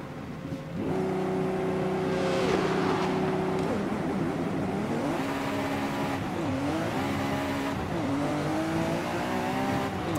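A Ferrari F50 tuned to 1000 HP in Forza Horizon 5 drones loudly, its engine pitch rising and falling through gear changes, tires squealing through the turns.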